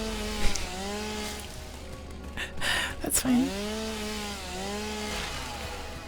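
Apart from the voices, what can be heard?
chainsaw cutting in the video game Satisfactory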